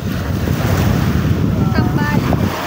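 Sea waves and strong wind on a beach in Zambales, a steady loud rush of surf with heavy wind buffeting the microphone throughout, and a faint whistle-like tone briefly rising near the end.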